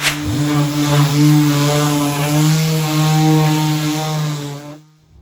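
Power sander fitted with a coarse pad working across the top of a wooden chest of drawers, a loud steady droning whine that holds for several seconds before stopping.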